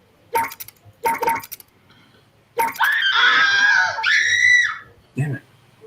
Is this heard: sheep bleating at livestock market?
no